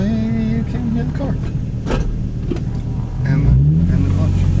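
Nissan 350Z fitted with a 370Z Y-pipe idling and blipping nearby, a steady low exhaust drone that swells into a louder rev near the end, with a voice speaking over it.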